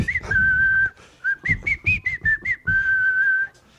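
Close, clear whistling of a simple tune: a long held note, a quick run of short notes, then another long held note.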